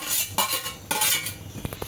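Metal utensils clink against a bowl as sausage and a fried egg go into spicy ramen: a few sharp, close taps spread over a couple of seconds, with no talking.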